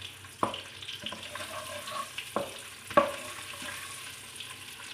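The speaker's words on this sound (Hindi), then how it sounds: "अब हमारे ये जो खड़े मसाले हैं मैं ये इसमें डाल दूँगी। ये देखें, अब हमने इसे 1 मिनट के लिए फ्राई करना है।" Whole spices frying in hot oil for a camel meat curry, with a low steady sizzle and a few sharp crackles and pops spaced through it. No voices.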